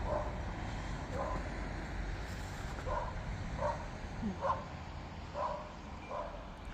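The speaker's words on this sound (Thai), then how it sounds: "เสียงหมาเห่าจ้ะก็เดินกับหมา" A dog barks repeatedly at a distance, short sharp yaps in an irregular series over quiet outdoor background in the German countryside.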